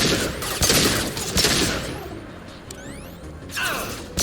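Rapid bursts of gunfire and crashing impacts from a firefight in the video game Mass Effect 2, loud and dense, with whooshing effects over a sci-fi battle soundscape.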